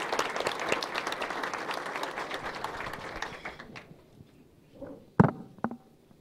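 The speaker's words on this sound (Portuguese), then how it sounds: "Palmas para vocês, para nós todos," Audience applause at a Brazilian Spiritist televised debate, a dense wash of many hands clapping for about three seconds, thinning and fading, followed by a few scattered claps and faint noises.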